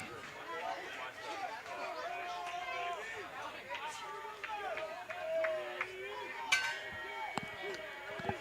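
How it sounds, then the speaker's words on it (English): Crowd noise at a high school baseball game between O'Dea and Bishop Blanchet, with a steady babble of many voices, scattered shouts and cheers rising and falling, and a brief sharper burst near the end. "Hearing a lot of noise here from the crowd"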